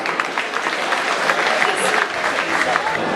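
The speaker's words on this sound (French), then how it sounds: "Merci, de grands applaudissements pour Franck." An evening awards crowd claps for an honoree, a lively, fairly close applause with individual claps audible and a faint voice or two mixed in.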